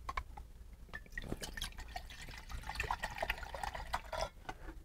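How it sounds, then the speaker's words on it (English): Water is poured into a cup from a survival cooking kit, a continuous trickling, splashing pour heard close and fairly quiet, with no talk. "we'll put some water in our cup"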